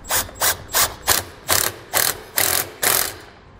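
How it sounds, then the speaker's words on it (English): A hand ratchet with an 8mm socket tightens a bracket during an air helper spring install, giving eight evenly spaced, close, crisp clicking bursts. "Now you just need to tighten your bracket down using an 8mm socket."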